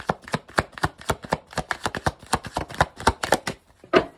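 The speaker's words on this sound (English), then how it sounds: "Last shuffle." Tarot cards being shuffled in quick repeated riffles and snaps, about twenty sharp close bursts in a steady rhythm over four seconds, heard alone with no talking.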